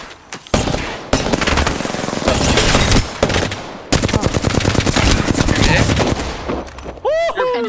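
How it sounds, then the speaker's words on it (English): Rapid automatic gunfire in Apex Legends, dense bursts hammering nearly nonstop at close range with short gaps between strings of shots, loud throughout, ending with sweeping ability effects. "I'm under fire."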